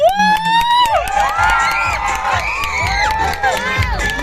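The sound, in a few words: crowd cheering and shouting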